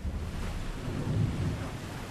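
Thunderstorm in Assassin's Creed Odyssey as a ship comes into harbour: a steady low rumble of thunder with rain and wind noise, continuous and fairly loud, with no talking.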